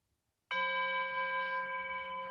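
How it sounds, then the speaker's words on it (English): A phone plays a bell tone as a starting bell, one clear ringing strike after brief silence, sustained and slowly fading, fairly loud and alone. "I'm just going to allow my phone to be the bell."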